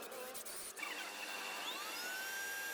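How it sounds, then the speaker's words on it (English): An electric drill bores holes into wood at marked points for a homemade wooden electric socket, giving a steady high-pitched whine with rising pitch sweeps, constant and close throughout. "And then use the appropriate drill bit to drill the wood on the mark points."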